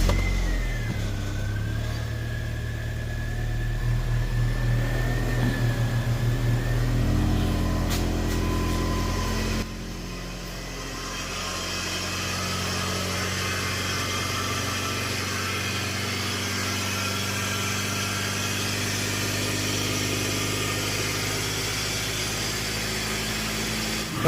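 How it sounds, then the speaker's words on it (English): A car engine runs steadily at idle while being warmed up to operating temperature after radiator replacement, a continuous mid-pitched hum with vibration and no speech, dipping slightly about ten seconds in. "let's bring this up to temp, get that temperature high"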